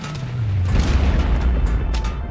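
A video game pea-shooter plant fires a nuclear explosion, a deep rumbling boom that swells and rolls on for a couple of seconds, loud and close, with no talking.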